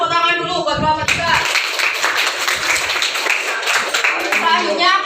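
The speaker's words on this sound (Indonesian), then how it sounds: "Tepuk tangan dulu buat kelompok 3." Classroom applause from students at an Islamic junior high school for a presenting group, a dense steady clapping that follows a brief spoken lead-in and holds for several seconds, with children's voices mixed in.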